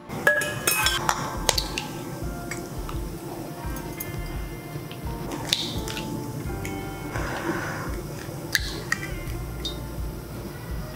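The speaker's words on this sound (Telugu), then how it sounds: "ఎగ్స్ అన్నీ కట్ చేసి ఒక దాంట్లో పోసుకుందాం" Desi country eggs cracked into an egg-shaped bowl for a village-style egg curry, with sharp clinks and taps of shell against the rim amid dish and utensil clatter in a kitchen.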